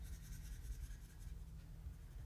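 A colored pencil rubs over paper with medium pressure as layers are built up and burnished, a faint, steady scratchy scribble close by and alone.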